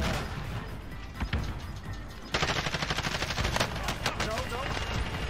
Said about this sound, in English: It seems unfair having a minigun in the final moments of Warzone.